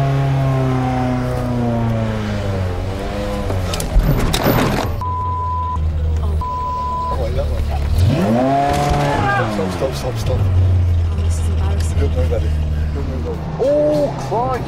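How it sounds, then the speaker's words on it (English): A Fiat Panda 4x4 drives along a potholed, crater-filled inner-city road, its engine rising and falling with occasional tyre noise while a voice talks over it throughout. "the Panda 4x4 is ideal for tackling the potholed, crater-filled surface, otherwise known as your typical inner-city road"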